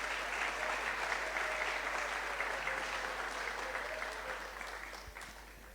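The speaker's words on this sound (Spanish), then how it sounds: "Démosle un aplauso a los niños que nos acompañan hoy." A church congregation applauds the children attending the service, broad sustained clapping at moderate distance that holds steady and then fades slightly toward the end.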